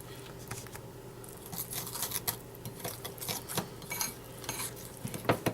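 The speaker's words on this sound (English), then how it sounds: "so just keep mixing that up" A spoon stirs thick microwave cake batter in a cup, with quick, repeated clinks and scrapes against the sides, close and fairly busy, and no talking.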